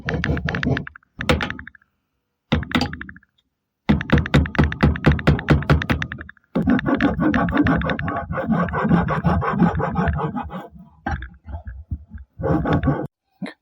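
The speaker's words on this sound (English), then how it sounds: "I'm just gonna flatten that with rasp." A hand rasp flattens a crooked cut edge on wood in quick bursts of loud, rhythmic rasping strokes separated by short pauses, with a few knocks between passes.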